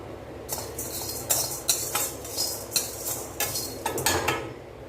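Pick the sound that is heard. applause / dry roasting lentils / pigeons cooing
dry roasting lentils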